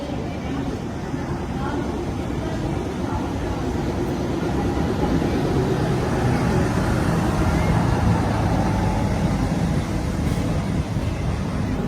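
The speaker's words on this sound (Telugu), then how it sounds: "కర్నూలు నుంచి గుంతకల్ జంక్షన్ వెళ్లే మెమో ట్రైన్ అయితే వస్తుంది" A MEMU train running from Kurnool to Guntakal Junction approaches with a broad, steady rumble that grows gradually louder, while a person talks over the noise.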